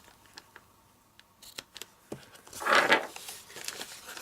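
Scissors snip through sweet sugar plum ribbon cut from the roll while trimming a 3D basket; small clicks and handling noises lead up to a louder crisp cut near the end, close and alone.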